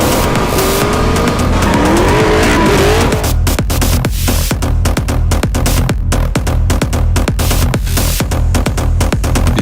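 An SRT Viper chassis run up to 90 miles per hour, engine loud and close with tires squealing at first, then a rapid repeating mechanical pulse under a sustained roar.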